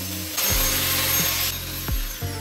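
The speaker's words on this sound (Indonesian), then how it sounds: "saya amplas bagian sisi potnya dengan gerinda agar kelip-kelip" An angle grinder sands the edges of a flower pot made from broken glass shards. There is a brief burst of harsh, loud grinding over a humming motor, then the motor hums on and tapers off.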